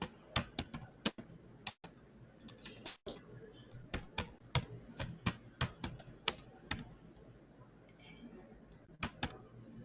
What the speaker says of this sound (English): So here I'll type